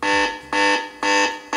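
Alarm from the toolbox app on a Blackview BV9800 Pro rugged phone, loud repeating electronic tones in even bursts about every half second, four pulses in a row with no voices.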